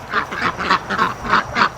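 Farm ducks quack repeatedly near a hatching pen, about six loud, evenly spaced nasal calls close by, with no voices in between.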